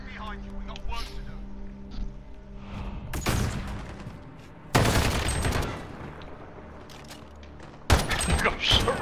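Bursts of gunfire in a Call of Duty: Modern Warfare 2v2 match, three loud, sudden volleys separated by quieter stretches, with people talking throughout.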